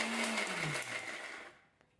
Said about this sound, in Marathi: तर चला आता याला 2 मिनिटं असं फिरवून घेऊ.